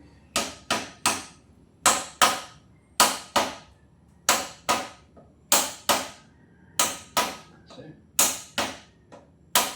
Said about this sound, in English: just using the shaft of the hammer